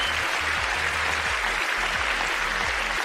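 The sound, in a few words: applause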